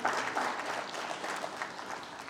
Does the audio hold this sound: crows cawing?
no